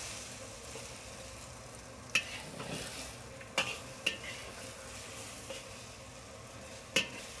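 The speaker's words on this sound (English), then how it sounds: "And so I'm scooping and flipping." Beef and egg being scooped and flipped in a wok for a Chinese stir fry: a steady sizzle and fry with stirring scrapes, punctuated by a few sharp metallic clinks of the spatula against the pan.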